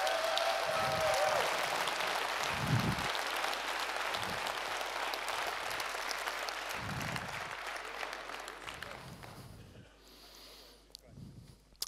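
Broad crowd applause at the EVE Fanfest 2014 DUST 514 keynote fills the room, gradually thinning and fading out toward the end, with a few low thumps beneath.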